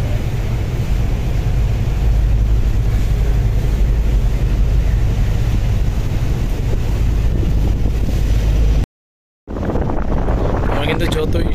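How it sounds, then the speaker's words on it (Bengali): Strong wind and rain on a river launch travelling near Fatullah under a storm signal, with loud, continuous wind roar on the microphone and water noise, a brief dropout near the end, then the rush resumes. "বৃষ্টির প্রবণতা পাশাপাশি বাতাস কিন্তু বেড়েই চলেছে"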